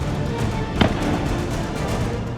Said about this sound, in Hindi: अचानक गोलियों की गूंज से लोग सन्न रह गए